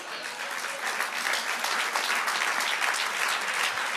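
Church congregation applauding during a sermon, a steady, dense wash of clapping from many hands held at an even level throughout, with no voices standing out.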